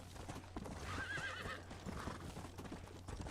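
A horse in a video game clip-clops along with quick hoofbeats and lets out a whinny partway through, heard fairly faintly over a steady low background hum.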